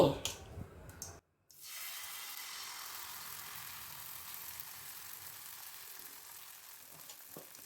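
Ragi uttapam batter sizzling on a hot oiled pan, a steady close frying hiss that starts after a brief clatter and holds evenly throughout.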